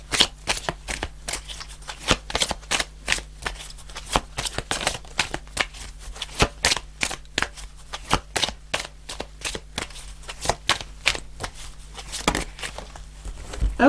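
Tarot cards are shuffled close up in a steady run of quick riffling, papery slaps lasting the whole stretch with no talking.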